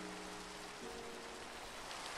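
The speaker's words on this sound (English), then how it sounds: "It's still raining" Steady rain in Minecraft hisses evenly throughout, a broad continuous wash of drops with no other clear sounds.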